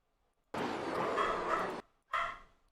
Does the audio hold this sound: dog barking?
yes